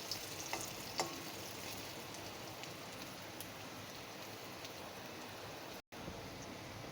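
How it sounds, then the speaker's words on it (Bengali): Lentil fritters frying in oil for an old-style chapor ghonto dish give a steady, dense sizzle with faint crackles throughout, broken by one very short dropout near the end; nobody speaks. "বড়াটা একটু মুচমুচে করে লাল লাল করে ভাজতে হবে।"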